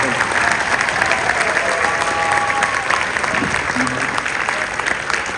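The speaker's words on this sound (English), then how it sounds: "So give them a hand clap." Parents in a middle school winter concert audience applaud the school orchestra with loud, sustained clapping from many hands, a dense crackle with faint crowd murmur underneath.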